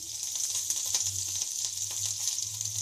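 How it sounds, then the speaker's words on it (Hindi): Green chillies sizzle steadily in a spoonful of hot oil while Gobi 65 is being made, with a constant bright crackle and a low hum underneath. There are faint scattered pops and no talking. "अब हम डालेंगे 1 चम्मच तेल, फिर इसमें डालेंगे हरी मिर्च"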